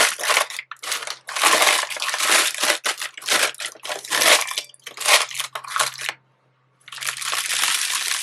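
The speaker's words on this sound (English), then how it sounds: "So I'm going to start by crumpling my parchment paper." Parchment paper crumpled by hand in a kitchen while decorating with royal icing, giving dense, loud crackling bursts in repeated rounds with brief pauses, close up and without talk.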